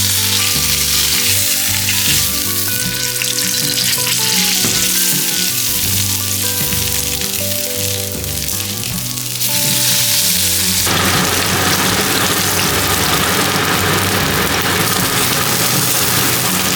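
Japanese A5 wagyu steak seared in a hot pan and flipped so its fat renders, giving a loud, steady, close sizzle and crackle of frying that runs unbroken throughout with no voices.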